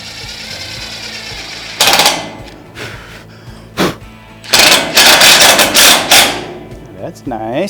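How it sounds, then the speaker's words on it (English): A power drill bores holes in metal during a plasma cutter setup, whining in loud close bursts with pauses between them over a steady background hum. "we're going to have to drill some holes"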